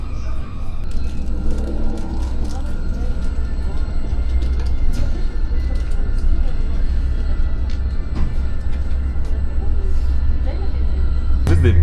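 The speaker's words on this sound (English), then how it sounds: "This is the fastest train in Africa, so this is the fastest train and the most beautiful train." Steady low rumble and rolling hum inside a carriage of the Boraq high-speed bullet train in Morocco, continuous and fairly loud, with a person talking over it.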